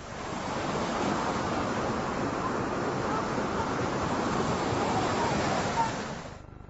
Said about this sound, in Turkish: Dere suları obruklara akarak yeraltı suyuna karışmaya devam ediyor.